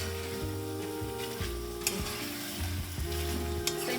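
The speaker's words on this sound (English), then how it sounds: "Now we need to fry this thing together with the chicken until the raw smell of ginger and garlic disappears." Chicken frying with ginger and garlic over a high flame, a dense continuous sizzle with repeated scraping and clanking of stirring in the pan, close and busy with no talk.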